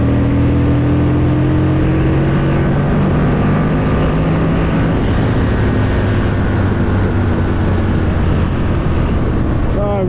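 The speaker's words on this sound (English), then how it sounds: "it's all about this big V-twin engine" An Aprilia RSV Mille's 998cc 60-degree V-twin motorcycle engine gives a deep, steady rumble throughout, loud and continuous, with a pitch that shifts slightly as it idles and revs.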